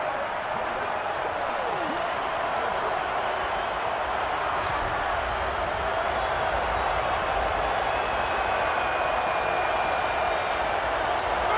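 A hostile stadium crowd in a College Football 27 video game roars in a constant, dense wash of noise with no breaks throughout.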